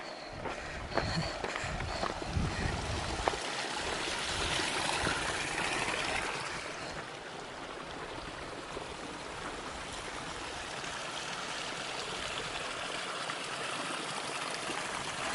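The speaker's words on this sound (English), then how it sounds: "Lots of little streams coming down the hillside." Little streams flowing down a hillside along the Pacific Crest Trail, a soft continuous trickle and rush of water that fades slightly after a few seconds, with faint footsteps.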